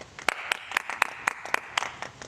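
Scattered applause for a band at a small live music gig, a handful of sharp, separate claps spaced unevenly over a couple of seconds, fairly faint and thin, as from a small crowd.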